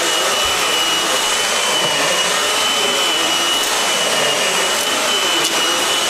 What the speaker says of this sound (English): I just finished vacuuming the carpet.